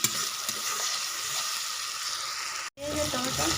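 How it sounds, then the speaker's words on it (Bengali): Onion and tomato cook in oil in a pan, a steady bright sizzle with scraping stir strokes, briefly cut off near the end before resuming. "পেঁয়াজ আর টমেটোকে একটু কষিয়ে নেবো"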